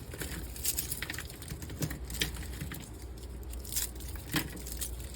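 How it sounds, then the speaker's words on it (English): Peanut, almond and coconut toffee-coated popcorn is pulled apart by hand, giving scattered crisp snaps and crackles at a quiet level, with a few sharper breaks standing out. "You just should be able to move it around and it should just snap right apart."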